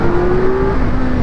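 Kawasaki Z900 motorcycle, a 450-plus-pound bike, accelerating hard with the clutch up: a loud, steady engine drone with a rising tone, close and alone, no talk.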